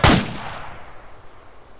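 A single loud gunshot in the tactical military shooter ArmA 2, a sharp close crack that decays into a brief fading echo with no voices.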